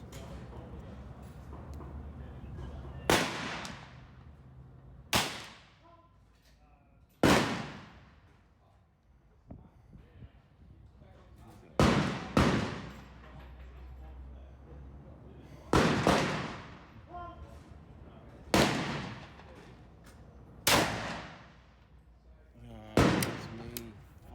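Rifle shots in 6.5 and .223 calibre fired from bipods, about eight sharp loud cracks spaced irregularly over a quiet outdoor background, with faint low rumble between shots.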